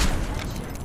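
A frag grenade explodes in the Apex Legends video game, a short, loud, broad boom with a rumbling tail and no talking.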